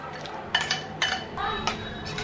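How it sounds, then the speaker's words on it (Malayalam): Chicken 65 marinade being mixed in a bowl by hand, giving a few soft clinks and clatters against the bowl at irregular intervals, close and moderately quiet. "ഇനി നമുക്ക് ഇതെല്ലാം കൂടി നന്നായിട്ട് മിക്സ് ചെയ്യണം"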